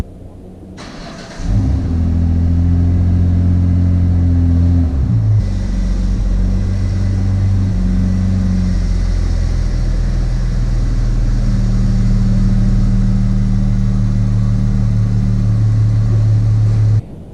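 A modified Mitsubishi Eclipse with a 4G engine fires up and settles into a loud, close, steady idle with a deep rumble, a brief rev near the start and no talking.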